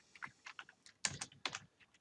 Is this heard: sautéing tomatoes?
no